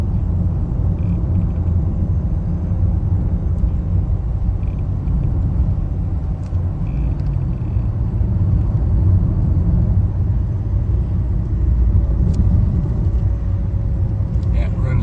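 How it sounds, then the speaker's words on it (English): A BMW E39 5 Series saloon on the road, heard from inside the cabin as a steady low engine and road rumble that stays constant throughout, with occasional faint higher ticks. "So here we go in the E39. Lovely smooth driving car."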